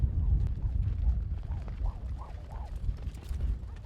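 A five-year-old gelding at a rope horse futurity head-horse round moves with muffled hoof thuds over heavy low rumble, and a faint horse-like call sounds in the middle.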